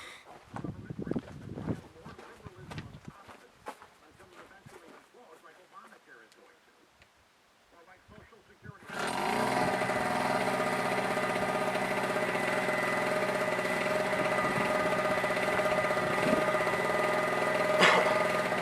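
A Harbor Freight TailGator generator is heard: quiet handling noises, then its engine fires up and settles into a loud, steady, even running drone that continues to the end.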